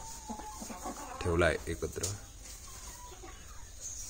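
Chickens in a backyard coop, hens with a rooster, give soft clucks and calls beneath a man's speech, with a brief louder burst of fowl noise midway.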